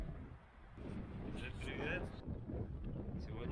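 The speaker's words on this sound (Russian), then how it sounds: "Сегодня в Рудных горах очень сильный ветер." Strong, cold wind in the Ore Mountains near a lookout above Osek, Czechia: a loud, gusty roar buffeting the microphone throughout, swelling and easing in waves, with faint rustling in the gusts.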